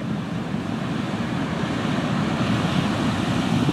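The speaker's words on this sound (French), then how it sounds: "Il y a une belle houle." Steady ocean swell rolls in at the mouth of the Rivière des Galets at sunset, a continuous, moderately loud wash of surf with a light breeze, no voices over it.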